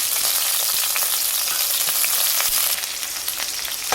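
Shallots and curry leaves fry in hot oil with mustard seeds, producing a loud, continuous close-up sizzle with crackling pops and occasional stirring, no one speaking.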